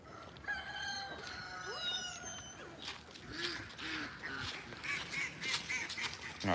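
A rooster crows among a flock of chickens outdoors, including a silver laced Wyandotte, with repeated clucks and calls layered over a steady noisy background, fairly close and continuous.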